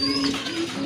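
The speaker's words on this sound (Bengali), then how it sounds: "আরেক জোড়া কবুতর এই দেখেন, এটা হচ্ছে আপনার রাজগোল্লা লাল কালারের ভিতরে" A brief, low coo from red-coloured Raj Golla pigeons, with a steady tone over soft background noise, close and fairly quiet.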